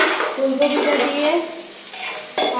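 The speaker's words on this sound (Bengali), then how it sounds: "আরো দু মিনিট মতো কষে নেবো, কষে নেবো একটু নেড়ে ফেলে নিয়ে" Cauliflower frying in a pan and being stirred, a close steady sizzle with soft scraping strokes and occasional light clinks of a utensil against the pan. No talking is heard.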